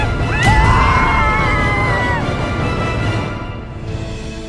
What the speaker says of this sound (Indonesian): Kayak ada suara teriakan ya.